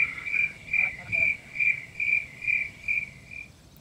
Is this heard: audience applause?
no